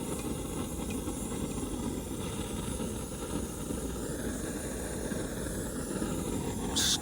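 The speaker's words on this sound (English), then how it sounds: "Starting to get a little bit of a boil." Water heating toward a boil on a camp stove for coffee outdoors, producing a steady roaring hiss from the burner and pot that stays even and close throughout.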